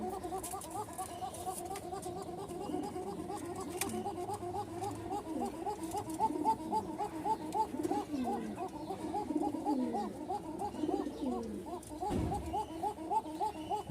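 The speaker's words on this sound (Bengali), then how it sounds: "ভিডিও করলে কবুতর একটু ভয় পায়, ডাক দেখে মাথা নষ্ট" Several pigeons coo in overlapping, repeated throaty calls, one a thin high coo, continuing steadily throughout at a moderate distance with faint background noise.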